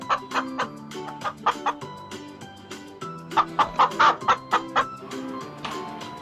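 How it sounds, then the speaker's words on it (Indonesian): A hen clucks in a series of short, repeated bursts over a steady background, with a brief cluster of louder clucks midway. "Induk ayam."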